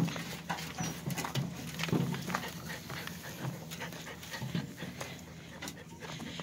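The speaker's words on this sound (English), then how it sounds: "The puppies are loving it. They're riding in the wheelbarrow." Golden retriever puppies riding in a wheelbarrow pant in quick, rhythmic breaths up close, with soft rattling and bumping in the background.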